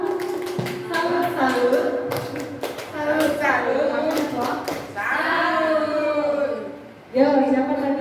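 A classroom group doing a rhythmic clap routine during a school teacher training session, with bursts of patterned claps mixed with loud chanting voices and talk.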